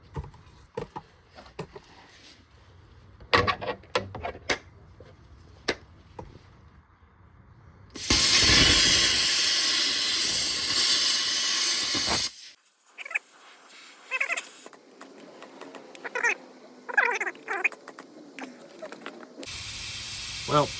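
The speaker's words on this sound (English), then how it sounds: "got the plasma working again, and I've just been going kind of back and forth across, taking layers down slowly" A plasma cutter gouges rust from a broken Jeep YJ frame near the shock brackets, giving one loud, steady hissing roar for about four seconds. Clicks and scrapes of handling come before it, and clattering work sounds follow.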